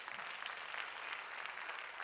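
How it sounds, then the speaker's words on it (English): A church congregation claps and applauds steadily throughout a short burst, dense and even with no voices standing out. "Give him a hand clap on tonight."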